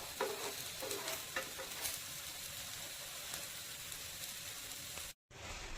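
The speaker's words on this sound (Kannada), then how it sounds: "ನಿಧಾನಕ್ಕೆ ಫ್ರೈ ಆಗ್ತಾ ಇದೆ" Raw plantain slices fry slowly on a tava with curry leaves, giving a steady close-up sizzle and crackle broken by a few soft stirring taps, with a brief dropout near the end.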